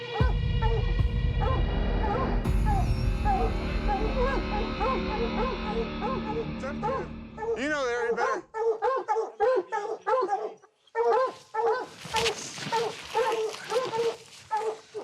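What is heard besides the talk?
hunting dogs barking at a treed mountain lion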